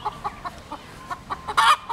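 A rooster perched up in a tree near Hanauma Bay gives a quick series of short, sharp clucks, about eight in two seconds, ending in a louder squawk.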